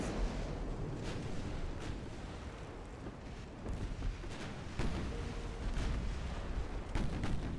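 A torpedo detonates against a destroyer in Ultimate Admiral: Dreadnoughts, heard within a dense stretch of rumbling naval gunfire and repeated booming blasts at steady loudness.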